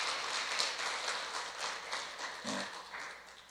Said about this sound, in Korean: 서로 모두를 위해서 격려하면서 박수 한번 할까요?